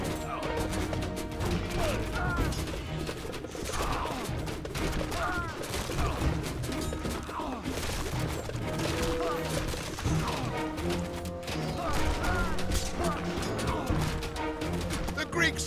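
Units in Age of Mythology Retold fire on buildings in a dense, unbroken battle din of rapid shots, crashes and impacts, with a voice talking over it at times.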